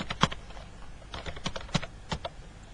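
Someone typing a short phrase on a computer keyboard, a quick irregular run of close, crisp key clicks with brief pauses, no voices.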